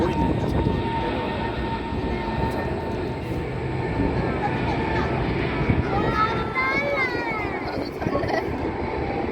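An airplane comes in to land at Incheon Airport, a broad, distant jet roar rumbling steadily while a child and adult chat nearby.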